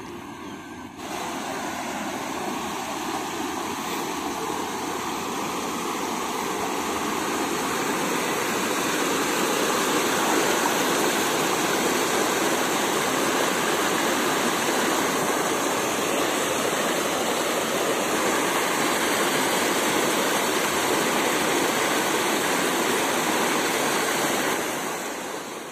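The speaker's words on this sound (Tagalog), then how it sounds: "agos ng ilog." A river's current flows steadily in the morning, a loud, continuous rushing wash of water close by that holds evenly throughout with no voices.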